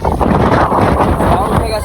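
Strong storm wind gusts before rain, roaring steadily and loudly against the microphone throughout.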